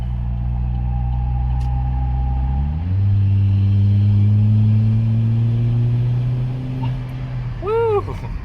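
A 2016/2017 Chevy Cruze fitted with a big turbo and a new tune pulls hard on the highway, its loud engine drone rising steadily through the gears with a shift around three seconds and a turbo whoosh near the end.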